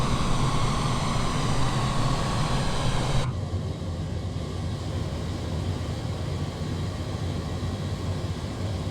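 A Boeing 787-9 takes off from Tokyo in Microsoft Flight Simulator: a loud, steady broadband jet roar that drops abruptly in level and brightness partway through, then continues as a lower, duller engine rumble.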